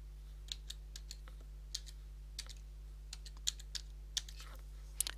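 Keys clatter on a computer keyboard as a machine username is typed, a run of sharp, quiet clicks in uneven bursts over a steady low electrical hum, with no voices.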